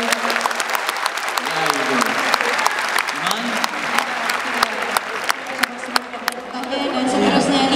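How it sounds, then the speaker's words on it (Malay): An audience at a speech event gives Dr. Tahir a loud, sustained round of applause, dense clapping with sharp individual claps, while a voice speaks briefly over the start and it swells toward the end. "Boleh kita dengar tepukan lebih gemuruh untuk Dr. Tahir?"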